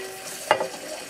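Corn drops into melted butter in a hot pan, giving a brief sharp sizzle burst over a steady low frying hiss, close and without speech.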